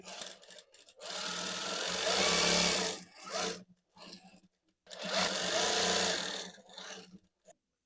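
Sewing machine stitching the side seam of a kameez, two close, loud bursts of fast whirring stitching with short pauses and brief starts between them.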